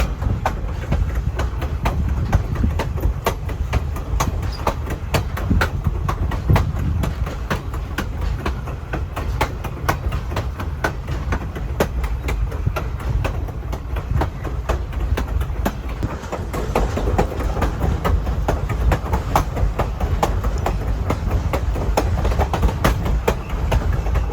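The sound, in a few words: Grand Canyon Railway train riding on rails, clickety-clack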